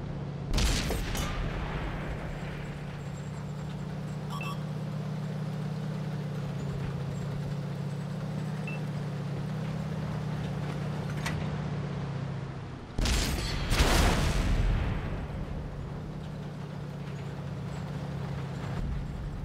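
Tank engines drone steadily through a World of Tanks console battle as a WZ-111G FT tank destroyer holds a defensive position, broken by a couple of loud, sharp blasts of tank and artillery gunfire.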